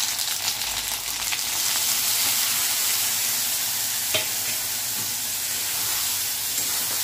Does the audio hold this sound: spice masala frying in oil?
yes